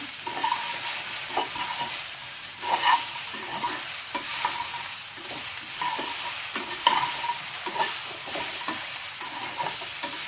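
Okra with salt being stirred and fried in a pan: continuous sizzling broken by repeated close scraping strokes of a spatula in a loose, uneven rhythm.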